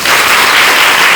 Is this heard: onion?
no